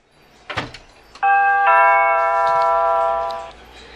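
A Vivint intercom doorbell sounds a clear multi-tone chime held for about two seconds, after a couple of brief clicks, close and fairly loud.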